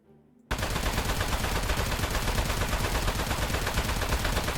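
Sustained rapid automatic gunfire from a video game starts abruptly after a short quiet moment and continues loud and unbroken, a dense stream of shots with no talk over it.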